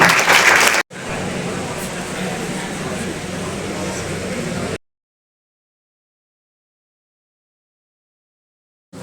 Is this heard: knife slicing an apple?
no